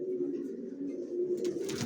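Racing pigeons of a single long-distance Johnson line coo in their loft, a low, steady throaty murmur heard close by, with faint higher sounds near the end.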